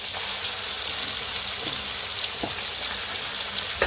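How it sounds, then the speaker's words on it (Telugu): Ginger-garlic paste fries with tomatoes in a new fish-curry pot, making a loud, steady, close sizzle with a few faint clicks and spatters throughout. "ఈ అల్లం వెల్లుల్లి పేస్ట్ కూడా పచ్చి వాసన పోయేంత వరకు ఫ్రై చేసేసుకుని"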